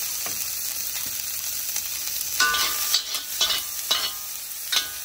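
Carrots and onion fry in a Vintage Lodge cast iron wok while pork fried rice is being made. A soft, steady sizzle runs throughout, broken by several sharp scrapes and stirs of the spatula.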